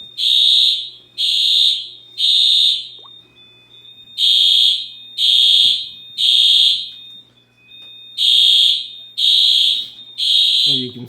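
A Simplex fire alarm system with a 4100ES main panel sounds during a test: loud, piercing tonal horn blasts in repeating groups of three with short pauses between, and a steady low hum beneath.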